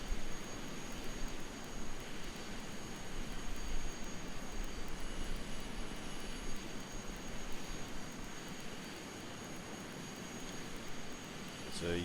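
Learjet 60X jet engines idling in an FSX flight simulator, a steady broadband roar with a faint high whine, continuous and even throughout.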